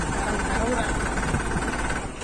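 A motorbike engine labours hard as it climbs a steep forest road toward Adali, a steady loud drone with knocking vibration running unbroken throughout.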